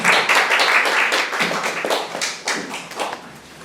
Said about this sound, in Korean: 두 분을 뜨거운 박수로 모시겠습니다